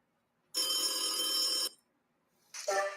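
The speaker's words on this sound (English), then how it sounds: "By the way, we are receiving our phone call." A phone rings in a video game: a loud electronic ringtone burst of about a second, a short pause, then a second ring starting, close and alone with no voices.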